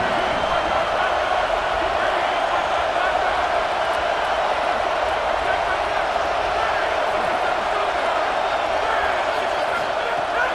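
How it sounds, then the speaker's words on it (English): A dense, steady roar from a home crowd fills a college football stadium, loud and continuous throughout, with a commentator talking over it. "Man, this crowd really affecting the football game."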